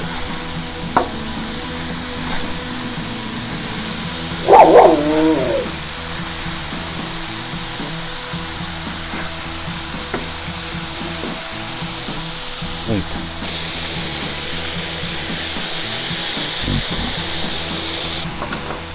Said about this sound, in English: So we're gonna flip our burgers.